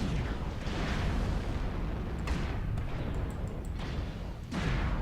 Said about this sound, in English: Being hammered by missiles does not help.